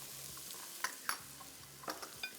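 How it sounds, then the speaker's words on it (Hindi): Ginger and garlic frying lightly in a pan, with a soft steady sizzle under scattered sharp clacks and scrapes of a stirring utensil against the pan, heard close and fairly quiet with no talking. "तो सबसे पहला काम तो हमने अदरक लहसुन को हल्का सा करना है फ्राई।"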